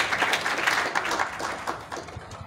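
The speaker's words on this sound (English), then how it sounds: "I think you need to give us a round of applause for that." A crowd at a Kaunda Day ceremony in Lusaka breaks into a round of applause, many hands clapping in a dense, even patter that gradually thins and fades toward the end.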